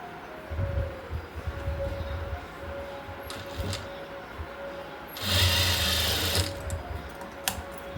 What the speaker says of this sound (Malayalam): ആദ്യം ബെൽറ്റ് സ്റ്റിച്ച് ചെയ്യുമ്പോൾ ഇതിൻ്റെ അറ്റം ഇതുപോലെ മടക്കി അടിക്കുക.